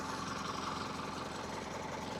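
A Ford P-42 excavator's engine runs at a steady idle, a low, even mechanical chug heard faintly and continuously with no voices.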